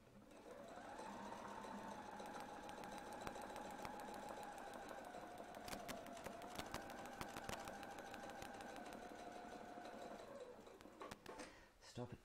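A domestic sewing machine stitches circles on a quilt guided by a template, a faint, steady mechanical whir holding an even pitch for about ten seconds before it stops.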